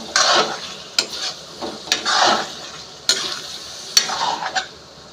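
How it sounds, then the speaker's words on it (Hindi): Chicken liver sautéing with ginger and garlic in a pan: repeated sharp scrapes and clinks of a spoon over a steady sizzle, close and fairly loud, with no talking. "अच्छे से हम इसको भी भून लेते हैं अदरक लहसुन के साथ में।"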